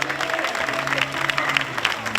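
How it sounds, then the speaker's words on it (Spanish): Crowd applause at a motorcycle gymkhana during a street festival, steady, dense clapping that carries on throughout, with a low steady hum running underneath. "damos un fuerte aplauso para Eloy."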